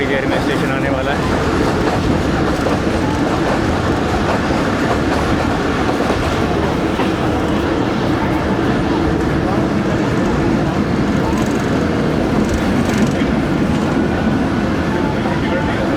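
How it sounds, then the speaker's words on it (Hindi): Inside the Jand shuttle train as it runs on tracks approaching Basal Junction, a loud, steady rumble with rhythmic clickety-clack of wheels on rails continues throughout. "दोस्तों, ट्रेन हमारी अप्रोच बना रही है बसाल जंक्शन पर"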